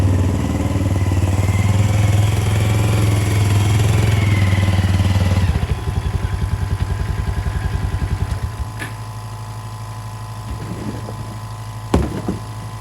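An air compressor runs loud and steady while pumping up a tire filled with slime, then its pitch drops into a rapid chugging pulse and fades to a lower hum, with a sharp clank near the end.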